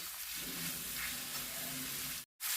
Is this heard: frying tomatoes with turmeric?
yes